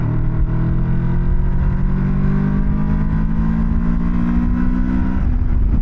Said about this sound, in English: Okay, let's do some roll-on power. Third gear. From 40 to 70.